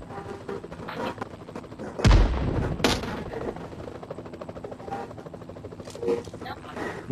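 Gunfire in the video game PUBG: a loud burst of shots near the two-second mark, then a further crack and scattered distant pops under a constant background of game ambience.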